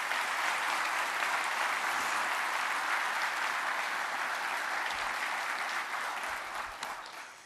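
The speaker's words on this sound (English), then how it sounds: "So let's give them a round of applause" A large crowd applauds at a US military retirement ceremony for a lieutenant general, sustained full clapping that holds steady and loud before tapering off slightly at the end.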